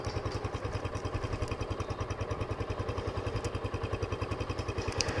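A Kawasaki Boss 175cc motorcycle, an imported Thai bike in near-new condition, idles steadily in a shop with a fast, even low thumping pulse, close and continuous throughout.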